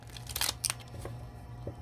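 Tarot-style cards pulled and shuffled from a deck, a few quick papery snaps and rustles close by, faint otherwise.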